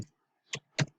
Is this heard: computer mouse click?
yes